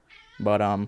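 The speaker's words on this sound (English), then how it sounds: "That's our cat." A pet cat gives one close, clear meow that swells and holds for about half a second, following a brief murmur of a voice.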